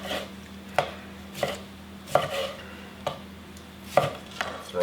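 Knife chopping tomatoes on a cutting board, six or seven crisp thuds at an uneven, unhurried pace, close by with a faint steady hum behind.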